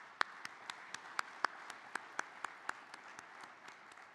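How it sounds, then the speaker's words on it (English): Sparse, evenly spaced claps, roughly ten sharp hits at a steady rhythm, faint and distant, as an audience at a concrete industry convention members meeting applauds award winners. "I'd just like to give one more round of applause for all the award winners"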